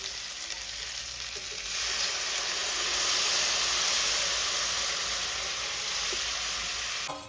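Masala paste for a Malvani-style Konkani fish curry sizzles loudly in hot tempering oil, a steady, dense frying hiss that swells after the first couple of seconds and holds close and continuous, with no talk.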